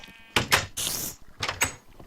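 A door opens in Minecraft, played with the Hexxit modpack, making several short, blocky clattering bursts in quick succession, close and fairly loud.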